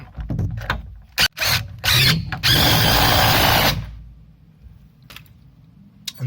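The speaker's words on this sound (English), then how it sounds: "I'm just going to use this DeWalt Torx, but you could equally use a socket set" A DeWalt Torx driver tightens an anchor bolt into a concrete base while a shed is fixed down: short sharp clicks and knocks, then a loud sustained buzzing whir for about two seconds before it stops, followed by faint taps.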